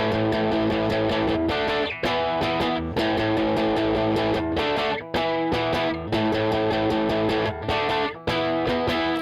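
Heavily distorted electric guitar power chords strummed fast in quick rhythmic bursts, with short gaps between groups, loud and upfront with no voices.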